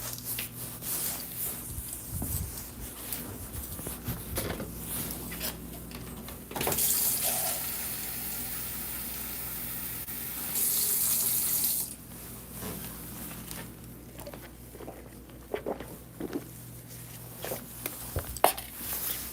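Water runs from an indoor tap in a steady rushing stream for about five seconds, louder near the end, then stops. Quiet room noise and faint clatter sit around it, with no talking.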